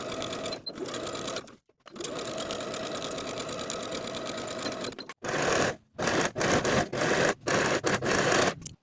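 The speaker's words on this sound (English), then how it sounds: "Then we'll sew this inner leg seam from the bottom of the crotch curve to the bottom of the pants with a 5/8 inch seam allowance" Sewing machine running in long steady bursts while stitching the inner leg seam of culotte pants, with brief pauses between runs and shorter stop-start bursts toward the end, close and loud with no talk.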